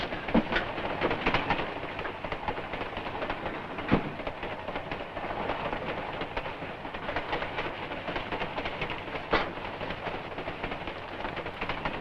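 A moving passenger train in a 1947 film scene, heard as a steady rumbling rattle with occasional sharp clanks of the cars, continuous throughout and without talk.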